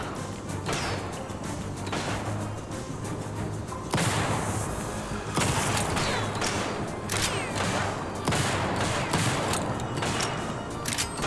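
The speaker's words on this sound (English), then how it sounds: "There is only shotguns in this level." Repeated shotgun blasts from TimeSplitters Rewind, loud and close, bursting at irregular intervals over a steady busy game backdrop, with no talk.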